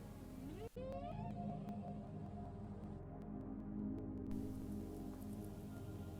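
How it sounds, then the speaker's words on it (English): Whales calling to each other underwater, rising tonal sweeps and long steady hums over a low rumbling sea background, with a couple of sharp clicks. "one of the main sounds they would hear were those of whales, often many miles away, communicating to each other across the sea"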